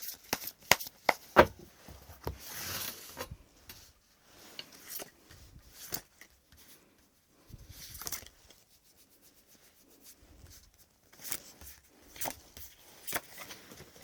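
Tarot cards are shuffled and drawn close up, with soft papery riffles, slides and taps in scattered bursts separated by quiet pauses.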